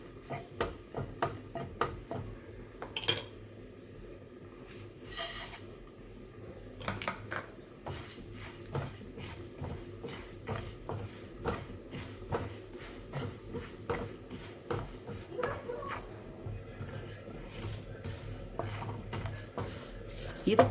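Spices for a tomato pickle being dry-roasted in a pan: a spatula scrapes and taps against the metal in irregular strokes, with steady rustling and stirring and occasional sharper clinks, fairly quiet and close.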